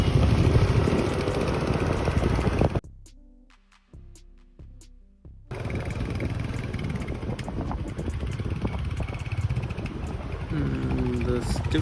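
A 2022 Royal Enfield Hunter 350 motorcycle on the move: steady engine drone buried under heavy wind roar, dropping away briefly mid-ride before the rushing noise returns at full strength.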